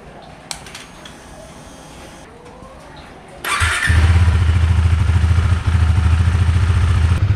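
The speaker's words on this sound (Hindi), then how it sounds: "तो फिलहाल बाइक को अभी देंगे कोल्ड स्टार्ट न्यूट्रल में।" A motorcycle cold-started in neutral at a flooded home: quiet background, then the engine catches about halfway through and settles into a loud, steady, close idle that runs to the end.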